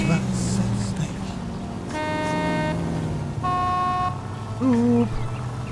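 A car horn honks in several sustained blasts separated by pauses in the video game L.A. Noire, with a person talking underneath throughout.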